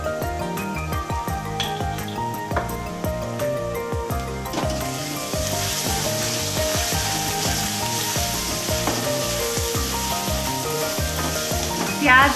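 Onions fry with masala in a pan, a busy sizzle mixed with clattering, rhythmic scraping and tapping of a spoon against the metal, close and loud, no one speaking.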